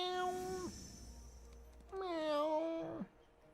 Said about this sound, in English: You can hear my cat going meow meow meow meow